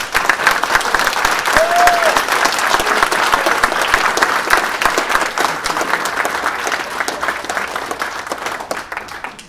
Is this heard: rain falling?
no